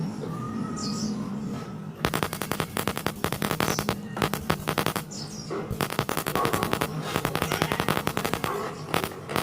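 Rapid, sharp clicking of a gas stove igniter sparking in fast repeated bursts after a brief quiet start, close and steady, with faint chirps in the background.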